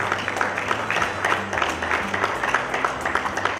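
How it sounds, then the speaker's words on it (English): A hall crowd at a Nigerian Union youth day event in Sweden breaks into sustained applause, many hands clapping densely over a low background hum until it cuts off abruptly. "Please give him a round of applause."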